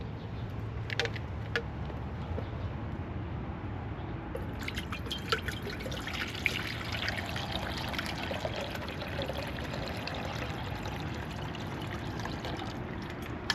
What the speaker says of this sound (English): Let's get some water in our billy pot.